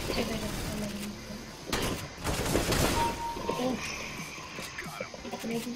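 Gunfire in the shooter game CS:GO during an AWP-versus-Nova deathmatch: bursts of rapid shots and reports over steady game ambience, loudest mid-clip, with a player talking over it.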